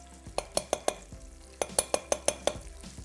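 A metal spoon knocks repeatedly against the side of a cooking pot in a home kitchen, close and crisp, two quick bursts of rhythmic taps with a brief pause between them.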